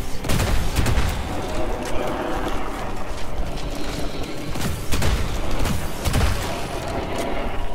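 Machine guns in Immortal Unchained, a sci-fi shooter game, fire in a loud, dense barrage of rapid bursts with booming hits throughout, with no talking over it.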